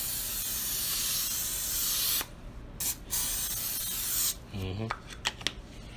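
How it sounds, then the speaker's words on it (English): Olive oil spray hisses onto a pan in a long steady spray for about two seconds, then stops, followed by a few short bursts and light clatter. "what you're gonna do is spray it on the pan"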